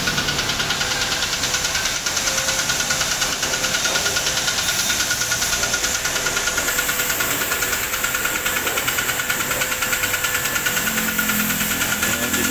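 An Adventure vehicle's engine idles steadily with a constant low rumble and faint mechanical knocking, continuous throughout with no voices.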